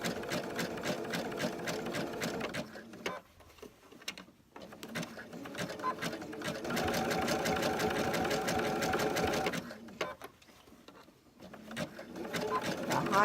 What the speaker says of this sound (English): you hold this up as you slowly sew